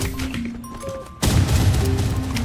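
Gunshot in the Roblox shooter game Rivals: one sudden loud blast cuts in midway and leaves a dense rumbling tail, over faint game tones.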